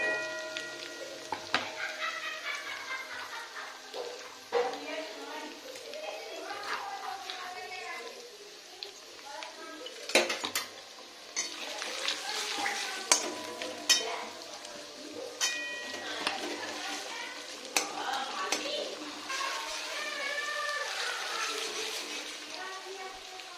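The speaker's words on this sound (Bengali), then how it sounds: "এরপর পেঁয়াজটা দেবো, একটু ভাজা ভাজা হবে, তারপর পেঁয়াজটা দেবো" Onion frying in a pan, a soft steady sizzle broken by scraping and clinking stirs, fairly quiet, with someone talking over it.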